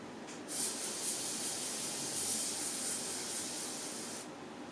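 An airbrush sprays thinned purple paint onto a Frost Gargant miniature, making a steady, soft hiss that runs for about four seconds and then cuts off.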